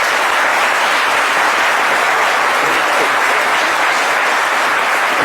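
Church congregation applauding loudly and steadily throughout, a dense continuous wash of clapping from a large crowd, close and sustained without pause.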